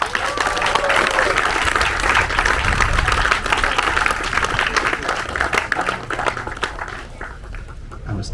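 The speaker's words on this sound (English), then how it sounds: "please give a round of applause for the winner of our Corinthian Spirit Award" Audience applause at a sailing awards ceremony for the ILCA US Nationals: loud, dense clapping from a crowd that carries on for several seconds and then gradually thins and fades toward the end.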